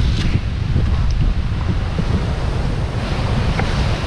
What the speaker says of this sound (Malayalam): കണ്ടോ, കുറവാണെങ്കിലും ഇടയ്ക്ക് ഓരോ തിരമാലകൾ ഇങ്ങനെ അടിച്ച് കയറും.